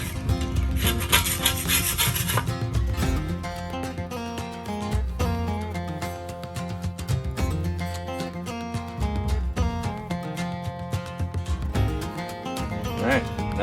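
Plastic scraper working over the surface of an ASMOKE pellet grill, a close, continuous run of rough scraping and rubbing strokes with scattered clicks, with a voice speaking over parts of it.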